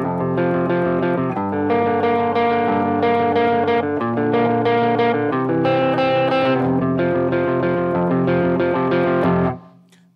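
A distorted electric guitar plays a continuous riff of quick picked notes with steady rhythm, loud and alone, ending abruptly near the close.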